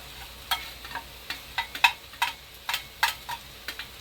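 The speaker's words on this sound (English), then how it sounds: "I'm going to put my veggies in to saute them" Vegetables saute in a pan, a quiet bed of sizzle broken by a dozen or so sharp clicks and scrapes of stirring at an uneven rhythm, close by with no talk.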